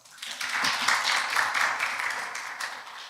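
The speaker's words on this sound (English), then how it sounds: "One more round of applause." Steady crowd applause of many hands clapping together, continuous and fairly even throughout, with no talking over it.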